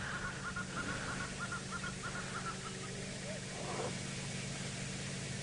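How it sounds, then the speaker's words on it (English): Hornbills and babblers calling at sunrise on an African safari drive: a series of faint, rhythmic distant calls repeat over a low vehicle engine rumble, with a brief louder call near the end. "we have hornbills and we have babblers calling"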